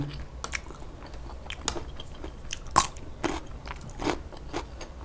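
Eating Thai chili paste (nam prik) up close, a series of separate crunchy bites and chewing crackles spaced irregularly over several seconds, with one sharper crunch in the middle and no talk.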